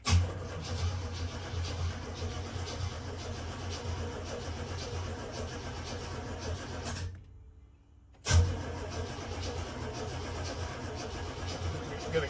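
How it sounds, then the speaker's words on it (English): A car engine cranks steadily with a grinding, rhythmic churn, cuts out briefly, then resumes cranking, close and fairly loud. "I'm gonna crank it till we see oil pressure."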